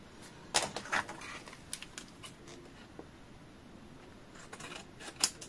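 A few crisp snips of basic scissors cutting paper while making an envelope pocket, quiet and close, with short pauses between cuts in an otherwise still room.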